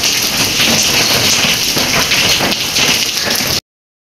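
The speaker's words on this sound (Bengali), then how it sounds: "তো ওদিকে বৃষ্টি হচ্ছে" Steady rain pours down outdoors in an even, unbroken wash of hiss that holds at a constant level, then cuts off abruptly near the end.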